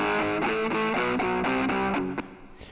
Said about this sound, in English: And of course the raw guitar is this.